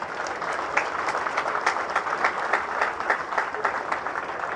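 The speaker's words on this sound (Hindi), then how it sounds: "आपके माँ बाप जो हैं और बहन भाई जो हैं वो तालियां बजा रहे हैं" Audience applause at a passing-out ceremony of the National Highways & Motorway College, steady dense clapping from a large crowd, continuous and fairly loud throughout.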